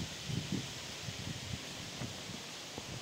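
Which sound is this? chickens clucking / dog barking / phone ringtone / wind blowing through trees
wind blowing through trees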